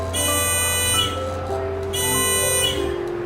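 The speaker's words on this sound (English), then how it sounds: "when I move away, it starts to buzzer" A steady electronic buzzer from a beginner electronics kit, triggered by a light sensor, drones in two long pulses with a short gap between, its tone bright and harsh over a low background hum.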